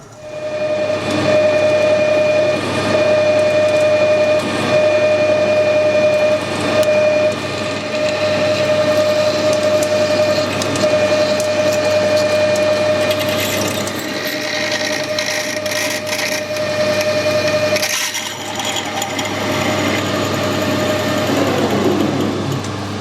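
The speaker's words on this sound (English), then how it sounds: "we'll drill a 10mm hole in there first." A steady, sustained tonal whine of a drill boring a 10 mm hole into a metal disc, with a constant motor hum and some scraping near the end; no voices.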